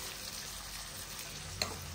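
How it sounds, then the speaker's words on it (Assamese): Home-grown local potatoes sizzle steadily in hot oil in a pan, a continuous close frying hiss with a soft stir or clink near the end, no voices. "এইফালে ভাজি আছো ঘৰৰ আলু লোকেল আলু ভাজেনে"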